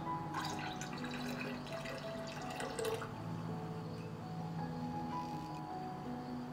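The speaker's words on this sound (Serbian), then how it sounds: "I surutku sipam u bokal." Goat whey pours steadily into a jug with a continuous splashing trickle, close by, lasting several seconds without talk.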